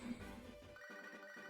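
A phone rings in the Pokemon HeartGold video game, a short, faint electronic ringtone of repeated beeping tones, heard alone with no talk.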